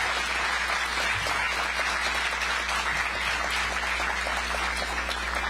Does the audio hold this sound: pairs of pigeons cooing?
no